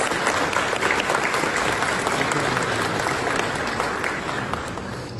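Applause at a ceremony in the Turkish Grand National Assembly, with a large audience clapping densely and steadily throughout, fading slightly toward the end.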